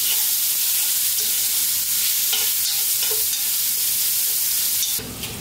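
Peeled garlic sizzles and is stirred in a pot for a chicken rice soup, a loud steady frying hiss with faint scraping strokes, ending in a short louder burst.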